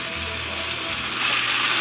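Sausages frying in a pan, a close, loud, continuous sizzle with a crackling hiss that swells slightly toward the end.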